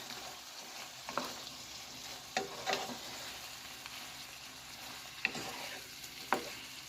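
Beef and broccoli frying in a pan, with a steady sizzle throughout and a handful of sharper scraping stirs from a utensil against the pan at irregular intervals, close and moderately loud with no talking.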